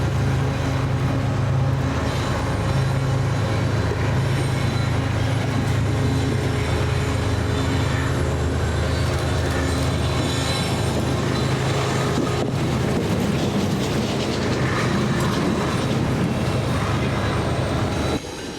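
A long freight train rumbles steadily past nearby on a flyover in Kansas City, wheels clattering and grinding continuously, with occasional metallic squeals over a heavy low drone.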